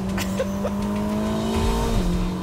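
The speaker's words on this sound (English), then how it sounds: "That was me pulling the paddles for those instant gear shifts" A Mercedes-AMG SL65 engine holds a loud, steady drone close by, then dips in pitch with a quick paddle-shifted gear change before settling into the next gear.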